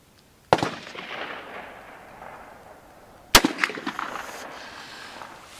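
A Ruger GP100 revolver fitted with a Weigand scope rail fires Corbon rounds outdoors, two sharp loud shots about three seconds apart, each followed by a ringing echo tail.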